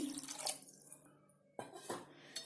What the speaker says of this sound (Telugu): ఇప్పుడు ఉడకడానికి కొన్ని నీళ్ళు వేయండి